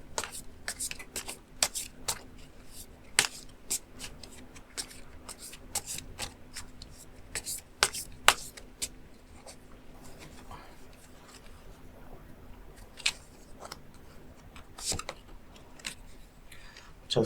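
Tarot cards shuffled and drawn one after another for a love-compatibility reading, with crisp, close paper flicks and snaps in an irregular rhythm over a quiet room hum, scattered sharp taps standing out.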